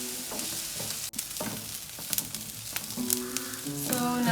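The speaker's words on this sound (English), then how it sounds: "we are going to fry up these onions until they're nicely sauteed" Onions sizzle and fry steadily in a pan for Kenyan street-food samosa filling, with scattered stirring scrapes and spatula clicks over a constant close hiss; no one speaks.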